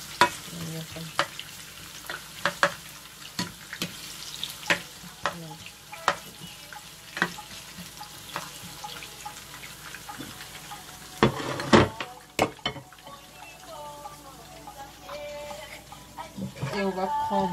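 Onions fry in a pan for a white bean Madesu dish, giving a sizzle broken by regular stirring scrapes, and a person talks now and then over the cooking.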